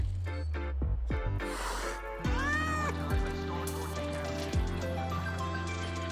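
Frightened cat in Wuthering Waves, several distinct meows close up, one long wavering plaintive cry in the middle and shorter calls after, over a quiet game soundscape.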